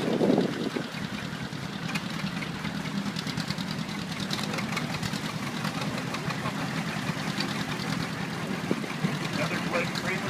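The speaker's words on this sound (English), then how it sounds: "Tractor, 1944 H" Engine of a 1944 Model H tractor idling at an outdoor gathering. It gives a steady, rapid chugging knock throughout, with a voice speaking over it near the start and crowd noise in the background.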